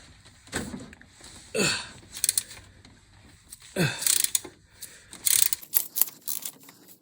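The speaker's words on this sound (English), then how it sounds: "I'm gonna go ahead and loosen this bolt up" Wrench work loosening a bolt on a Lexus 2JZ engine during AC compressor replacement: several separate bursts of ratcheting and metallic clicks, close and moderately loud, with quiet gaps between them.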